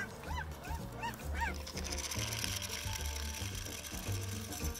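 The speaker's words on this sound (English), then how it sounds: "Sounds like barking." A dog barks and yips in short rapid bursts, then whimpers, over a steady mechanical hum in the background.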